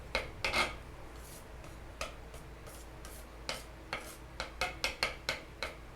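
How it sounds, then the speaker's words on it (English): Fish glue gets worked into finely ground chalk for medieval gesso, a tool rasping and tapping against the bowl in irregular strokes that speed into a quick run of scrapes, close against a low steady background. "So I'm just going to start mixing this up."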